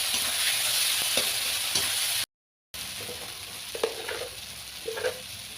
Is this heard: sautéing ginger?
yes